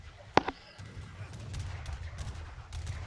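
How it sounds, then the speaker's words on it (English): Cannon and musket fire ring out during an Age of Empires III battle: one sharp, faint shot early on, then softer scattered battle noise. "There goes the cannon."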